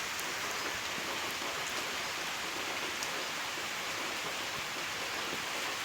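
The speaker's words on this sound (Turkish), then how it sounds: "yağmur başladı. Yağmuru çekmek istedim." Steady rain pours down continuously, a dense hiss of drops striking surfaces with no voices.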